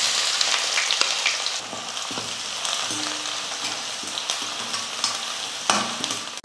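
Chopped onions sizzle and fry steadily in hot oil in a home kitchen for a Tamil side dish, with occasional stirring scrapes and clicks over the continuous crackle, close and moderately loud, no talking.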